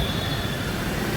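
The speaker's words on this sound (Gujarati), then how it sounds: "મેટ્રો ટ્રેનની નીચે છીએ આપણે અત્યારે." A metro train in Chennai rumbling on the elevated track overhead, heard from street level below as a brief, loud, steady roar with no speech.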